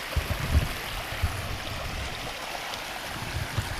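A roughly 20-foot waterfall and stream in Tennessee woods, a steady broadband rush of falling water, close and continuous with no voices.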